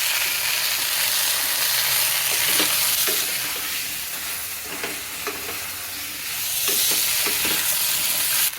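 Jujube fruit with salt cooks in a pan for pickle: a loud, continuous sizzle with stirring and scraping strokes throughout, swelling slightly near the end.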